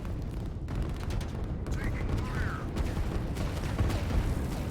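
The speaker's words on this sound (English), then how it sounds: "Over here we've got some more artillery from Orbnet coming down this area" Artillery shells from a player's guns come down in a Line War tournament match: a steady, heavy rumble of distant explosions and gunfire filling the whole stretch with no pauses.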